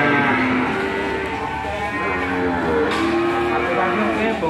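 Calves mooing at a livestock market in Indonesia, several overlapping moos near and farther off over a steady busy crowd murmur, continuous throughout.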